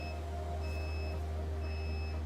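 A faint electronic beeper sounds during chip removal from a heated circuit board, giving three thin, evenly spaced beeps over a loud, steady hum of equipment, with no speech.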